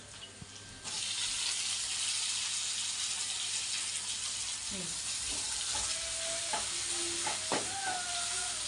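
Spinach curry cooked village style bubbles in a pan as onions fry. A steady, close sizzling hiss runs throughout, with a few light clinks and stirring scrapes near the end and no talking.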